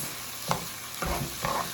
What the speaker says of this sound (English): Because basically you're frying your rice.